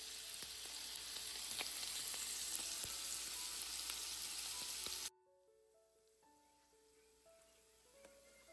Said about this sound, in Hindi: मैंने गाजर को बारीक बारीक काटा और उसको ज़रा सा फ्राई किया है